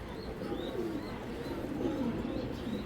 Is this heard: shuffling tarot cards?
no